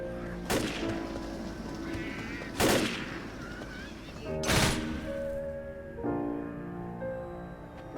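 Heavy video-game gunfire from powerful weapons in Back 4 Blood, several loud bursts in a row over a busy game soundtrack and effects.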